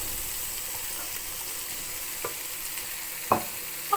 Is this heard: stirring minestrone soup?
yes